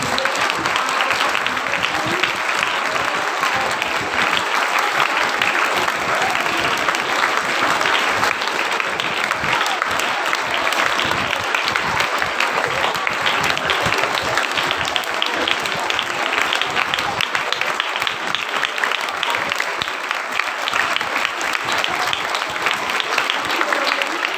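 Audience applause fills a Women's Equality Day program, a dense, steady roar of many hands clapping that holds at an even, loud level from start to finish.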